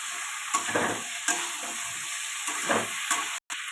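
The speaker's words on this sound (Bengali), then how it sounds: "এবার দিয়ে দেবো ঝিঙে। দিয়ে এটা ভালো করে কষিয়ে নেব।" Ridge gourd sautéing in a hot pan, a steady sizzle broken by the repeated scrape and clatter of a spatula stirring, with no voices.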